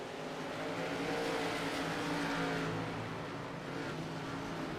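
An ARCA stock race car engine circling a track in a racing game, a continuous loud drone with a steady pitch that holds throughout, with no voices over it.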